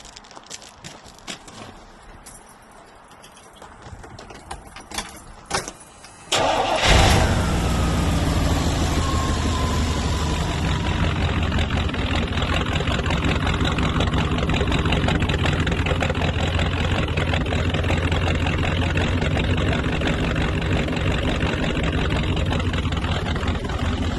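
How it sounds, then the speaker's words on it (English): A 1980 Chevy C30 flatbed truck with a four-speed manual cranks over after some quiet handling noises, then catches on a cold start and settles into a loud, steady, rumbling idle that runs on unbroken. "We're going to do a cold start and just listen to the way this starts."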